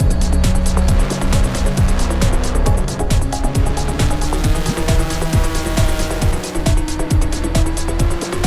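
A mix of cars, mostly Porsches at a club driver-education day, lap the Indianapolis track with a continuous loud engine drone, repeated gear-shift dips and cars rushing past close by.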